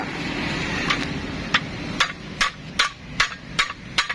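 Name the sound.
hammer striking metal part while replacing pineapple gear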